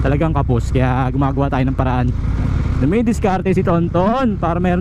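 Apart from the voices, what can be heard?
No everyday noises stand out.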